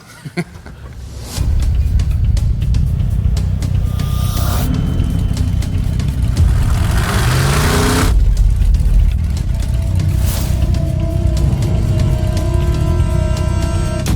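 A Hemi-powered hot rod blasts across open desert, its engine roaring loudly and continuously with shifts in pitch as it accelerates and revs hard.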